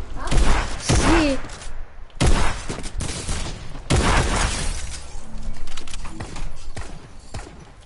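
Bursts of AK rifle fire in a video game, a couple of loud sharp volleys with brief gaps between them, up close and dominant.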